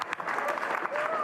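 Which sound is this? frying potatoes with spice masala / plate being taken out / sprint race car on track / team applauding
team applauding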